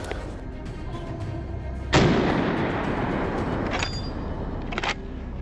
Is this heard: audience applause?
no